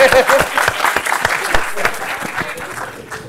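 Audience at a startup bootcamp talk bursts into clapping and cheering, a short, dense round of hand claps close by with excited shouts mixed in.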